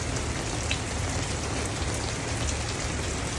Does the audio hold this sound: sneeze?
no